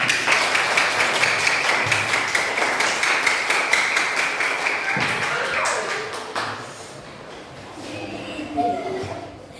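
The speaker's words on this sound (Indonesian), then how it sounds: "Kita beri tepuk tangan bersama-sama." Audience clapping together at a school teaching-practice presentation, steady collective applause that fades out partway through, followed by quieter room sounds and a few voices.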